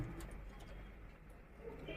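Chinese pigeons coo steadily from a loft, a low, continuous murmur of several birds under a constant background hum.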